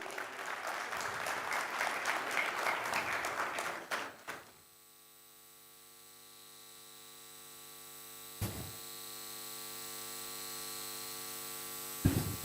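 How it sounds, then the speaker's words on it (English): Audience applause at a launch event in Dubai, steady clapping for about four seconds that cuts off abruptly and leaves a quiet electrical hum. "Round of applause to Cameron Abbasi."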